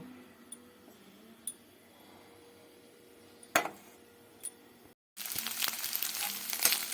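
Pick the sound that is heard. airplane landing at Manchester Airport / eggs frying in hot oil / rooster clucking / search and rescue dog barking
eggs frying in hot oil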